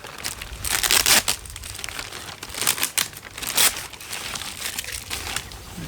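A plastic seed bag crinkles and crackles as it is handled and cut for sowing seeds, close and busy with repeated sharp bursts and no talk.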